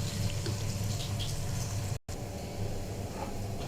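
Hot water pouring steadily from a close source into a pot of rice for chicken pilau, a continuous liquid rush with one very brief break.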